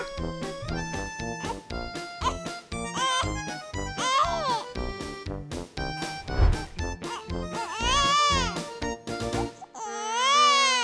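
A Baby Born toy doll's electronic crying, repeated wailing bursts with warbling pitch, loud and close, ending in a longer sustained cry.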